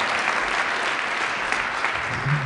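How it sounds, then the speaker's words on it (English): An event audience in Kansas City breaks into loud, continuous applause, a thick even wash of many clapping hands close up with no speech over it. "give them a round of applause"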